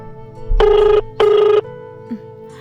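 A telephone rings twice in two long electronic bursts separated by a short pause, loud and close, then goes quiet.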